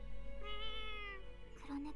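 A cat meows in the video game Little Witch Nobeta, one short, fairly clear meow heard close up over a steady low background hum.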